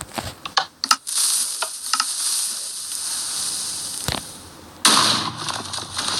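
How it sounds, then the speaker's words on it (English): A Minecraft TNT cannon fires in a video game: a steady fizzing, hissing fuse runs throughout, broken by sharp pops and crackles early on, one loud blast near the middle, and a louder burst of hiss near the end. "Our next trap is the TNT cannon"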